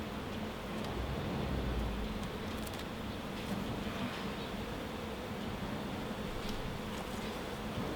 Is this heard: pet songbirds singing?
no